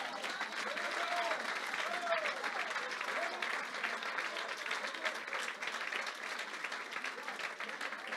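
A church congregation applauding during a Sunday worship service, sustained dense clapping from a large crowd with faint voices and cheers mixed in throughout.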